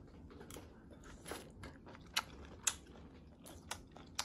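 Webfoot octopus shabu-shabu dipped in wasabi soy sauce being chewed: soft, close mouth sounds with a few sharp crunchy bites spread through, quiet and without talking.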